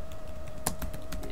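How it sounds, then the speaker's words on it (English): A quick burst of keystrokes clicks on a computer keyboard, light and fairly close, with a faint steady hum behind it. "as you can see, I'm typing"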